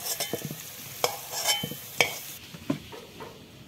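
Chicken fries in mustard oil with turmeric and salt in a pan, giving a quiet sizzle. Sharp scraping clatters from a spatula or utensil against the pan break in several times at irregular intervals, close by.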